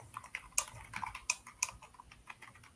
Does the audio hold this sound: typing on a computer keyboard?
yes